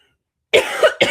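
A person coughing from allergies, a few sharp throat bursts in close succession, near and fairly loud after a stretch of silence.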